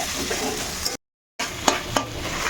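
Tomatoes with ginger and garlic sizzle in a hot pan while a spoon stirs them. The frying breaks off briefly, then returns with two sharp scrapes against the pan, and no one speaks.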